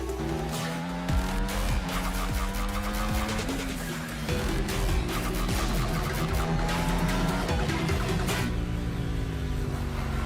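Engines roar and tires squeal throughout a video game race, dense and loud with rising and falling revs and skids, no talking.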